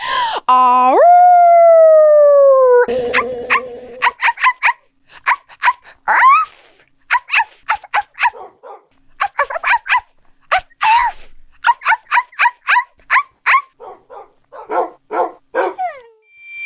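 Minecraft wolves give a long rising howl, then a rapid run of short, sharp barks and yips that keep going for over ten seconds, close and clear, with no talking.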